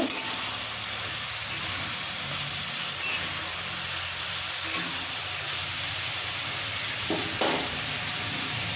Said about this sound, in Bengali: বাঁধাকপি দিব, কেটে রেখেছিলাম, অল্প অল্প দেব আর ভালো করে মিশিয়ে নেব